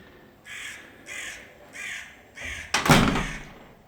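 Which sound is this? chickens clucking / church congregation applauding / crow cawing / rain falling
crow cawing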